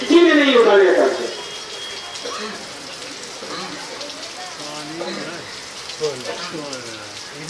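Rain falls outdoors in Bhagalpur, a soft, even hiss of drops running throughout while someone talks over it, louder at the start.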